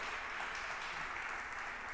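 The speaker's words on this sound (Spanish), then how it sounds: "Vamos a darle palmas fuertes al Señor, que Él es digno de toda la gloria." A church congregation applauding, a fairly faint, even wash of many hands clapping together, steady throughout with no clear talk on top.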